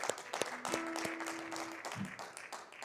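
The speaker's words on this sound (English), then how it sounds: "a big round of applause for the Broadway Theatre" A theatre audience claps at a modest, distant level, a scattered patter with a few sharper nearby claps and a brief faint tone in the background.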